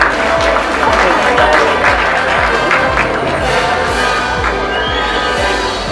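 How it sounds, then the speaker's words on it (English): An audience applauds and cheers after a speaker is introduced at a women's entrepreneurship event, with steady loud clapping continuing for several seconds while a low rhythmic music beat plays beneath. "Please give a big round of applause for Akshaya."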